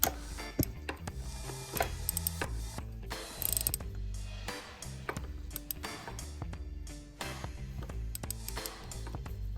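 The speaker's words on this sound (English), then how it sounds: "Go with a traditional, like I said, 3/8 drive ratchet." A 3/8 drive ratchet tightens a spark plug on a turbo drag bike, giving near, continuous rapid pawl clicking in uneven bursts with brief pauses, no voices.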